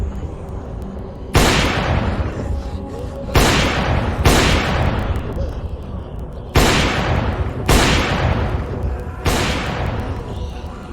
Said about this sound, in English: I took out my gun and fired upon the zombies.